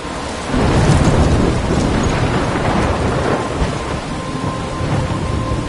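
A thunderstorm with heavy rain in the video game Life is Strange, thunder rumbling loudly over a dense, steady downpour that swells in after a quiet half second.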